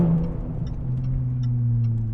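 Deep, steady exhaust drone from a Jaguar F-Pace S with its mufflers deleted, heard from the cabin while driving, a low hum holding constant with faint ticks above it.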